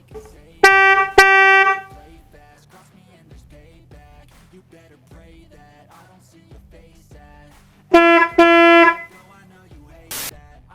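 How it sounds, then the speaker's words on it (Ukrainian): A brassy car horn honks twice, then after a quiet stretch with faint background noise, two more loud honks ring out. "А тепер зацініть, як вони сигналять."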